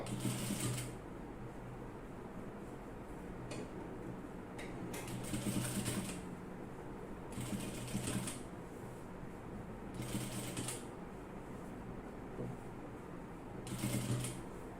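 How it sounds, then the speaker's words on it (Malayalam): A sewing machine stitches small pleats into the centre of fabric while an old top is remade, running in several short bursts of a few seconds each, separated by pauses with a low steady hum underneath. "സെൻറ്ററിൽ മാത്രം ചെറിയ ചെറിയ ഞൊറികൾ വരുന്ന രീതിയിൽ സ്റ്റിച്ച് ചെയ്ത് എടുക്കാം"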